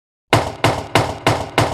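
Five heavy, evenly spaced bangs pound on a door, loud and close, each one booming and fading quickly before the next.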